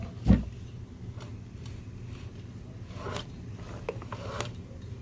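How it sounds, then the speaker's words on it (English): On a Honda CBR600F4i engine under repair, the motorcycle clutch basket gear gives one sharp metallic clunk as it snaps into place, followed by quieter clicks and scrapes of metal parts. "turning this gear a little bit while I put a little pressure, and you'll feel that snap in place."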